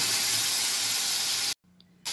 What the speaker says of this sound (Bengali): কিছুটা জল অ্যাড করলাম